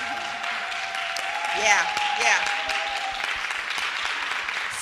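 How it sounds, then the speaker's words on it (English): A forum audience claps for the panelists at a community mental health event, a moderate spread of hand claps under voices and a short spoken reply, swelling briefly then steadying. "Can we just give them a round of applause?"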